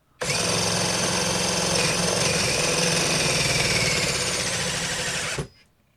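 HyperTough brushless drill driver running flat out on high speed, a single continuous high-pitched motor whine that starts abruptly, holds steady for about five seconds, then cuts off, loud and close.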